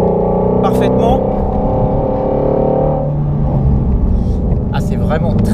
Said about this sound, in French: Alors il y a un tel bruit à l'intérieur de l'habitacle, je sais même pas si vous m'entendez parfaitement.